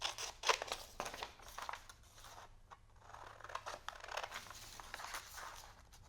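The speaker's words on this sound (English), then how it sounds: "So I'm just going to go ahead and cut one of these out." Scissors snip through a sheet of printed vellum for a Halloween lantern panel, a quiet run of crisp cuts and paper crinkles at close range with no talking.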